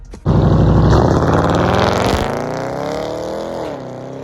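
A 2021 Dodge Durango R/T with a straight-pipe exhaust roars to life with a sudden loud, deep rev, then eases into a rumbling drive whose pitch climbs and drops as it pulls away.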